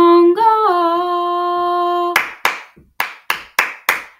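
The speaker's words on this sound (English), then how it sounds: "then you start the clapping like this" Hands clap a short rhythm in a choral piece, six sharp, close claps in an uneven pattern, following a sustained sung tone, with no other voices.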